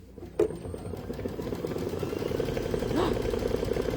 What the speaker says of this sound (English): we're going to do the satin stitch around the outside of our